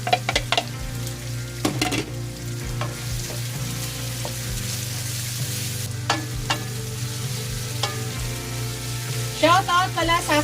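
Garlic sizzles in a hot pan for a pork steak sauce, with steady frying crackle and repeated close clinks and scrapes of a utensil stirring against the pan.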